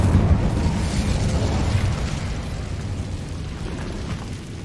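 A fiery Incendio spell blast from Hogwarts Legacy: a loud, sustained roaring burst of flame that stays dense and steady for several seconds before fading slightly toward the end.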